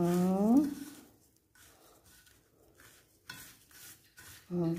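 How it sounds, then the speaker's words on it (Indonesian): Shrimp paste (terasi) being crushed with salt for sambal kecombrang, a faint gritty scraping and grinding between stretches of a voice talking at the start and end. "Kita hancurkan dulu terasinya dengan garam seperti ini."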